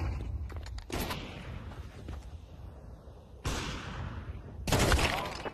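Rapid bursts of gunfire from the video game Counter-Strike 2, several loud volleys separated by short gaps, with sharp onsets and dense crackling rather than single isolated shots.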